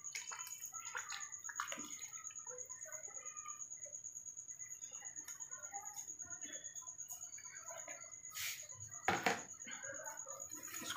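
AOS liquid is poured into a detergent powder mix in a workshop, giving a continuous trickling, splashing flow with some irregular glugs, set against a steady high-pitched background whine.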